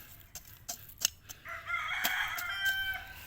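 A rooster crows loudly and drawn-out nearby, preceded by a few short clucks and scattered knocks.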